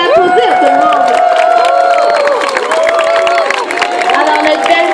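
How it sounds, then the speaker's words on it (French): Aquarium audience cheering and clapping for a walrus in a loud, busy crowd roar, with children's excited shouts and voices layered over it throughout. "Vous l'applaudissez, tout le monde."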